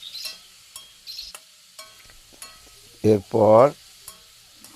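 Vegetables with salt and sugar are stir-fried in a pan for a curry of potato, cauliflower, peas and pumpkin, giving a few soft scraping stirs, then two short louder bursts of clatter near the end, with a brief spoken word.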